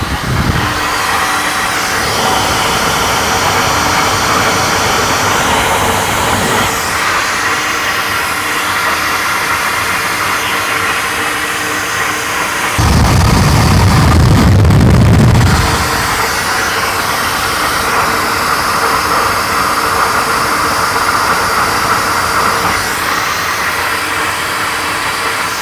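A flow bench pulls air through a CNC-ported 12V Cummins cylinder head in a loud, steady, broadband rush. A deeper roaring surge runs for a few seconds near the middle, and the noise continues without speech.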